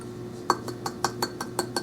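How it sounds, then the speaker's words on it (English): A martini glass tapped repeatedly against a bowl to shake off loose glitter, giving about eight bright glassy clinks in a steady rhythm, close and fairly crisp. "Now tap off any excess right back into your bowl."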